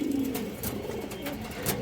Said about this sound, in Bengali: এই দেখেন কবুতরটা খুব সুন্দর কবুতর